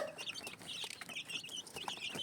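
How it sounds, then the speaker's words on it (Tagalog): Newly hatched chicks, from both hen and incubator hatches, peep steadily in a larger brooder. The high chirps come as a continuous, fairly soft chorus from many birds. "Etong mga unang napisang sisiw ay nilipat na dito ni Jayfern sa mas malaking brooder"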